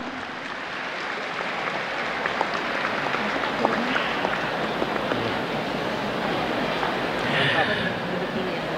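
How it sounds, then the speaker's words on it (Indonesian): Audience applause in a university lecture hall after a souvenir is handed from the Minister of Cooperatives and SMEs to Universitas Indonesia, a steady dense wash of clapping that holds for the full stretch and swells slightly near the end. "Kita berikan tepuk tangan lagi mahasiswa semua."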